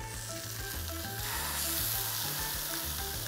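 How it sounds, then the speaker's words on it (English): Steak sizzling in a frying pan, a dense continuous loud crackle with a faint hum and tonal background underneath, no talking over it. "Now we can put the steak in the pan and let that sizzle"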